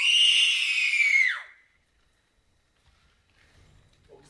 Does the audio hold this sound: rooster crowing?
no